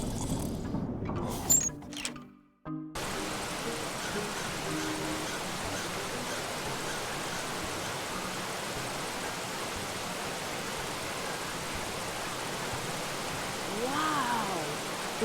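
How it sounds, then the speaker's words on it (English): Steady rushing waterfall ambience in the video game The Night of the Rabbit, a continuous broadband roar that holds evenly after a brief opening of other game sounds. "I can see the waterfall out there."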